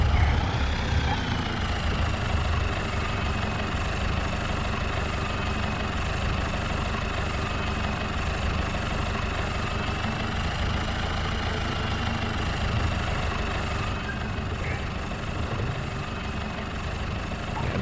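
A farm tractor engine idles steadily for the whole stretch, a loud, constant low rumble with a sustained whine above it and no talking.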